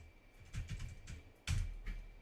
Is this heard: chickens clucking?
no